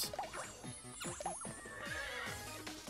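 A horse neighs twice with a rising, wavering whinny, over background hoofbeats and game ambience in Miitopia; no talking.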